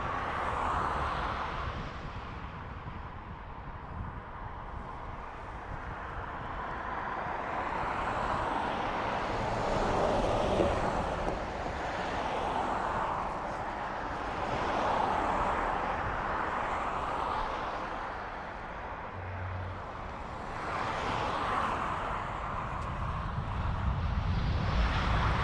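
An Aer Lingus airliner lands at Dublin Airport, its engines a broad, steady roar that swells and fades over about twenty-five seconds, heard from a distance with no talk.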